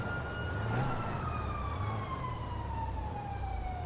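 A police siren in Grand Theft Auto V wails steadily with a sweeping, falling tone over road and engine noise, moderately loud and continuous, with no talk.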